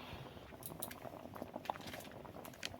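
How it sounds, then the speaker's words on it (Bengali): Cauliflower and soybean curry cooked without oil simmers at a quiet boil, with soft irregular bubbling and small pops that stay faint and close throughout. "এই যে তরকারিটা ফুটে গেছে"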